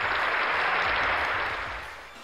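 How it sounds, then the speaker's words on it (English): Canned applause triggered from a GoXLR mixer during a Pokémon Sword and Shield stream, a steady wash of clapping and cheering that fades out at the end. "I'm going to get some applause for you guys"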